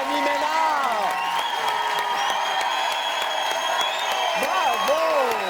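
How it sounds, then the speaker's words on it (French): A television studio audience claps and cheers for two finalists, with dense continuous applause carrying whoops and shouted cheers at a fairly constant, loud level throughout. "Applaudis nos deux finalistes de ce soir, Alex Perron, Mélanie Ménard."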